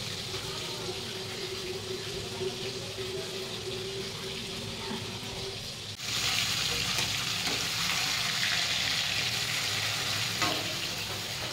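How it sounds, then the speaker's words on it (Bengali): Steady frying sizzle of hilsa fish in a pan, growing brighter and louder halfway through, with faint background noise. "অর্ধেক ভাজা হয়ে গেছে আর অর্ধেক ভাজা হচ্ছে বাইরে।"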